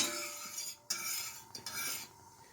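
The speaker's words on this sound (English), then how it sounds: "occasionally stirring this pot full of soup" A metal spoon stirs a pot of Campbell's chicken and rice soup, giving soft scraping and light clinks against the pot, continuous and close with brief pauses, no talking.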